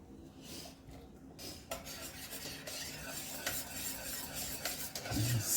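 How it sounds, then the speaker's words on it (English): A spoon stirs chocolate pie filling thickened with cornstarch and eggs in a pot, giving a continuous close scraping and swishing that grows slightly louder toward the end. "Stir it constantly until it comes to a boil."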